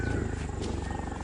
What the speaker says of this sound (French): Les tigres, habituellement solitaires, se rencontrent. L'affrontement est bref,